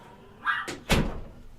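A door is swung shut in two close thuds a moment apart, the second heavier and landing with a low slam, in an indoor room with no talking.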